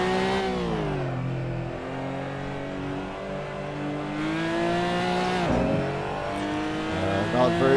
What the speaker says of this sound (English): Take a position. Trail braking into turn one.